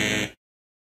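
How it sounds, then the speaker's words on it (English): A security patrol app's error sound for a wrong checkpoint: a brief, dense buzzy electronic tone that holds steady for a fraction of a second and then cuts off, with nothing else around it. "If the wrong checkpoint is hit, it will make a sound like this."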